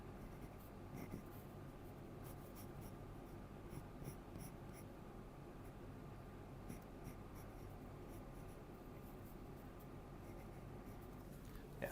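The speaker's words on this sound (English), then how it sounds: "This pencil also gives quite a satisfying sound." Graphite pencil scratching steadily across paper during a live Pattachitra Durga Devi painting workshop, a close, continuous fine rasp with small strokes and taps, no talking.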